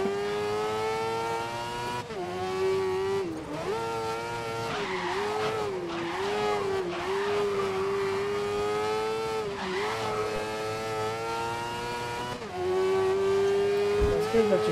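A funny car race car in the video game GRID revs hard with a sustained, wavering engine whine while its tires squeal through corners, loud and continuous for the whole stretch.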